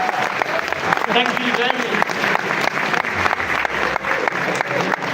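Sustained applause from an audience at a London launch event for the HONOR Magic V3 phone, dense clapping filling the room throughout while a presenter speaks briefly over it.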